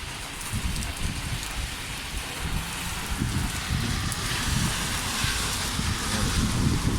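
Heavy rain pours steadily onto a surface in a flooded area, a dense continuous roar with wind buffeting the microphone, loud and unbroken throughout with no voices.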